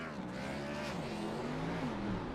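Brand-new BMW cars circling a track skid pad, their engines a distant, faint hum that rises and falls as they turn, with no one talking.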